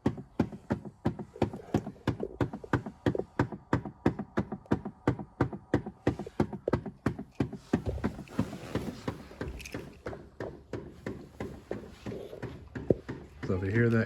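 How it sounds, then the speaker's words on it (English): Rapid, steady clicking from the fresh-air actuator behind the dashboard of a 2004-2011 Chevy Impala, repeating evenly for several seconds and then fading into a rougher, softer mechanical noise. "So if you hear that clicking is the air actuator for your fresh air."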